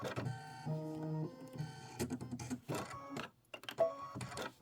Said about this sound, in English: now it's stitching out the antenna.